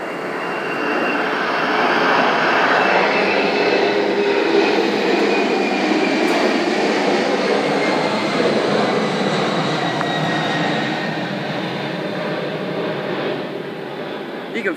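Airbus A320 jet engines give a loud, steady broadband roar that fills the whole stretch, rising quickly at the start and holding near-constant intensity with only a slight fade toward the end.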